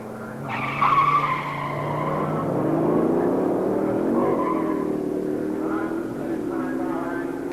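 A Plymouth Duster and a rival car launch at a 1986 pure stock drag race, tires squealing and engines revving hard as they pull away, loud and sustained, with an announcer's voice over the top.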